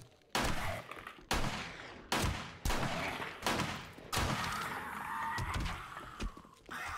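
Loud gunfire in the 7 Days To Die video game fires in six heavy shots or short volleys, each with a trailing echo, during a horde-night battle.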